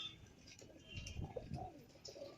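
A pigeon coos softly in a low, brief burst amid faint background noise, quiet and close.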